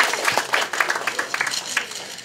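A crowd claps for two volunteers at a magic show at the Magic Castle, a short burst of moderately loud applause with some scattered hand claps standing out.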